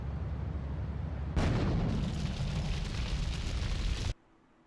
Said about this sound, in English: There's an open window and I have grenades.